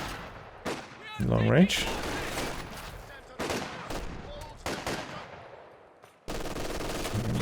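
SVT rifle and LMG fire between Soviet conscripts and German grenadiers in Company of Heroes 2, sharp shots and rattling bursts at long range, with a heavy volley at the end, as someone speaks briefly.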